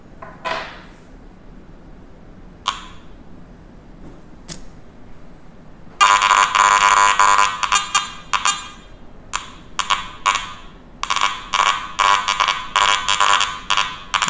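After a few faint clicks, a Garrett AT Gold metal detector sounds a harsh buzzing electronic tone, first steadily, then in rapid stuttering pulses that start and stop repeatedly.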